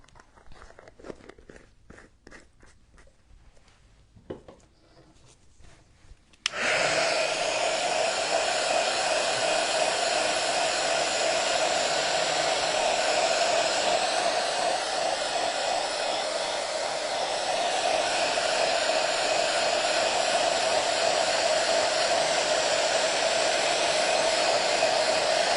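A hair dryer blows on a freshly applied varnish top coat, a loud, steady whirring roar that starts abruptly after a few quiet seconds of small handling noises and runs on unbroken to the end.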